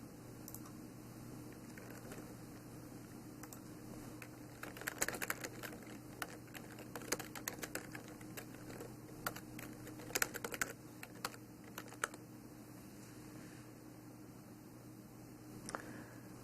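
Someone types on a computer keyboard to log in. Soft, close key taps come in short irregular bursts over a quiet hiss, with pauses between flurries.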